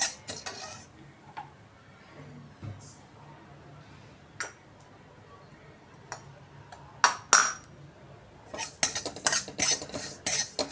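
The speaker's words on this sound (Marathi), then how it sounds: "मी या ठिकाणी पांढरे तीळ थोडेसे भाजून घेणार आहे, खसखस पण भाजून घेणार आहे।" White sesame and poppy seeds dry roasting in a kadhai, with sparse metallic scrapes and clinks of a spatula against the pan, growing into quicker clusters of taps near the end, no talking.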